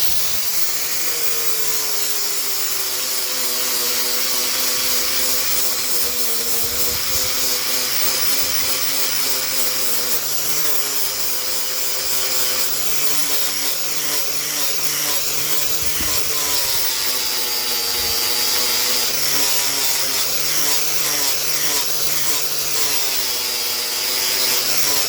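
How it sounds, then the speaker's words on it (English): An angle grinder fitted with a sandpaper wheel refaces a hatchet head, giving a steady, loud, continuous whine with shifting high-pitched abrasive tones throughout, close up and without speech. "Now I'm going to go over with the sandpaper wheel and see if we can improve."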